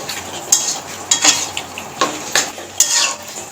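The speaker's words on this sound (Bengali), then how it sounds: "এভাবে মাংস দিয়ে নাড়াচাড়া করে সুন্দর করে কষিয়ে নিতে হবে" Chicken with mixed spices being stirred in a pan for an oil-free diet chicken curry, with a handful of sharp utensil scrapes and clinks spaced irregularly over a soft background hiss, close and fairly clear.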